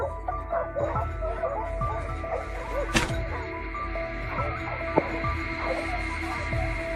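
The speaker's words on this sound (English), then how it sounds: "Loud barking echoed across the field." Hunting dogs barking in a cornfield in the afternoon, several barks and yips scattered across the field over a steady low hum, moderately distant with one sharper bark standing out.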